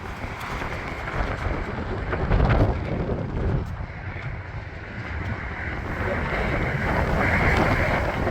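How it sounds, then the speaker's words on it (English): Strong, blustery wind roars steadily across the microphone outdoors on a cold, snowy spring day in Albuquerque, a loud continuous rush that swells and gusts throughout. "heading back into the wind"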